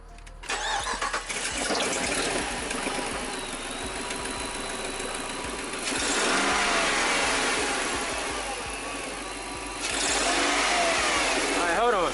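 A Jeep Commander with a faulty valve seat cranks and starts, then runs with a rough mid-pitched engine drone that swells in two revs before settling; people talk over it close by.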